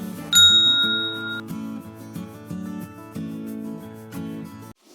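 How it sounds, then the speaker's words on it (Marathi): A bright subscribe-bell ding sound effect rings out near the start and fades over a light, plucky melodic music bed that continues alone. "ही घंटी वाजवा"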